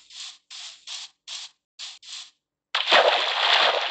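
In Minecraft, a player drops into water: six short, evenly spaced scratchy bursts of sound, then a pause, then a loud, sustained splash and slosh.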